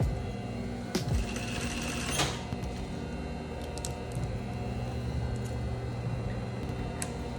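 Sewing machine back stitching through tulle, a steady close mechanical whir with a fast ticking needle rhythm running throughout, briefly louder near the start.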